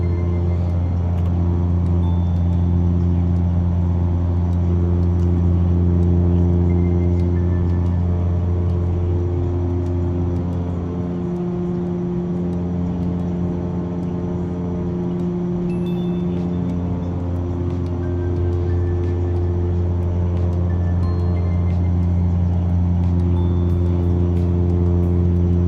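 An Evektor EV-55 aircraft engine in the X-Plane 11 flight simulator drones loudly and continuously throughout, a steady humming tone that shifts slightly in pitch partway through, with no talking.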